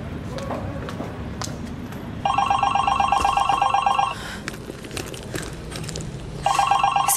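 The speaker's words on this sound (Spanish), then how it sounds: "Es el teléfono de Mía." A telephone bell rings in two loud bursts, from about two to four seconds and again near the end, over steady room background with no talk.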